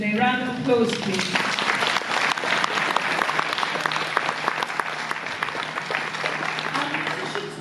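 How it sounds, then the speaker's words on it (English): A crowd applauds singers at a winter music festival, with sustained clapping mixed with a few fading sung or spoken tones at the start and murmurs beneath. "Round of applause, please."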